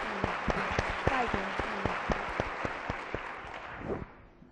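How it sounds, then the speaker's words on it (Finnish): Applause breaks out during a televised philosophy talk-show discussion, a handful of sharp separate claps standing out over a dense wash of clapping that fades toward the end, with some voices underneath. "Sanna, mä antaa sulle aplodit tässä kohdassa."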